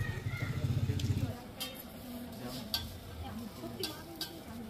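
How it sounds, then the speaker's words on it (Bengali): A mughlai paratha filled with meat fries on an oiled tawa at a Kolkata street food stall, giving a steady close sizzle with scraping taps, and people talk over it. "তাওয়ায় প্রথমে ছেঁকে নেবো"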